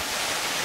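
A 60-metre waterfall near Cusco roars as a dense, steady wash of falling water, loud and close, with no other sounds.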